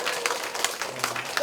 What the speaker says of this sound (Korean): 수고하셨다고 힘차게 박수 한번 쳐주세요.